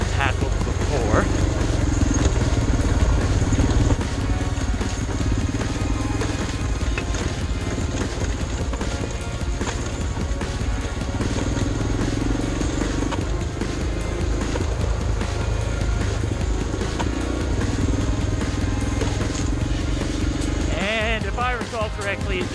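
A loaded Suzuki DR 650 dual-sport motorcycle descends a rough off-road track on Koch Creek Pass in British Columbia. Its low engine rumble runs steadily with wind noise and the clatter of rocks under the tyres throughout.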